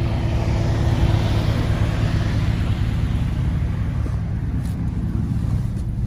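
A Porsche 997 Carrera S engine runs with a loud, steady low drone and rumble that holds evenly throughout, with no voices.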